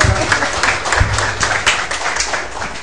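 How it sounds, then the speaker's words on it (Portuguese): Audience at a launch event in Recife claps steadily for a presenter, a dense close patter of many hands filling the room at a fairly loud level, with no speech over it. "Um aplauso para o Mário."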